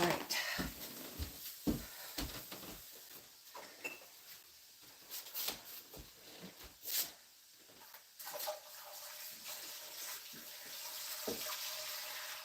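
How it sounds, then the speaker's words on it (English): Water pours from a jug with a pour spout into a large stock pot in a home kitchen, a steady close splashing and trickling that comes in uneven bursts and then settles into a continuous stream. "This is the easiest way to put water in, is with a jug with a pour spout."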